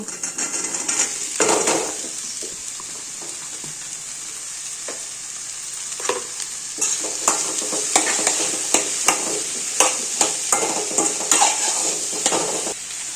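Mustard seeds sizzle and fry in coconut oil in a pan, a steady hiss with scattered crackling pops that grow busier toward the end, close by with no talk.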